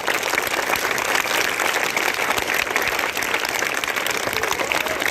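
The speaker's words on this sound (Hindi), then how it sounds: "जोरदार से लोग के लिए ताली बजाइए।" Audience at a Republic Day school speech in Uttar Pradesh claps steadily and densely for several seconds, a loud, even wash of applause with no break.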